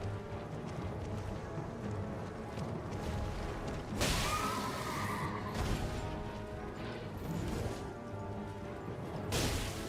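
A horse whinnies amid busy game noise in Elden Ring with the Convergence mod, with clashing impacts and rumbling in the background.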